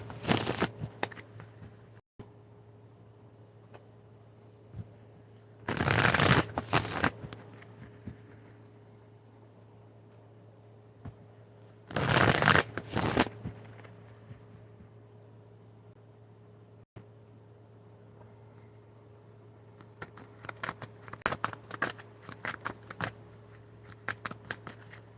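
Two loud riffling shuffles of a tarot deck a few seconds apart, each a brisk papery flutter, with soft card handling and faint hum between.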